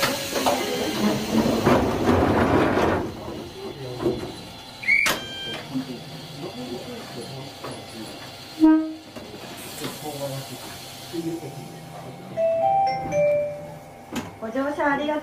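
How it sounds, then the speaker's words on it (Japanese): A Choshi Electric Railway 2000 series train runs along its line, with rumbling motion, hissing, and sharp chime-like tones and clanks, and a voice speaks over the train noise for much of the time. "電車は緑のトンネルと言われる銚子電鉄で一番人気の区間を走ります。"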